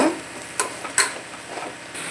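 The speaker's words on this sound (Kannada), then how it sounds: "ಟೊಮೊಟೊ ಹಾಕ್ತೀನಿ ಇದನ್ನು ಸ್ವಲ್ಪ ಫ್ರೈ ಮಾಡ್ಕೊಂಬರೋಣ" Tomato and onion fry in a pan for sambar, giving a faint steady sizzle. A few brief stirring scrapes cut through it, and no one speaks.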